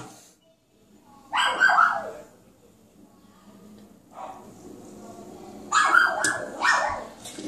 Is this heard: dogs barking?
yes